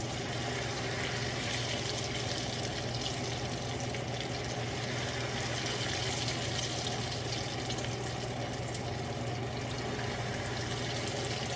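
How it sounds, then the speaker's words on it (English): Ghevar batter poured into the middle of hot frying oil, giving a steady, continuous sizzling and bubbling hiss at close range that holds evenly throughout, with no talking. "As soon as the bubbles goes down, then you pour, and you pour in the middle only."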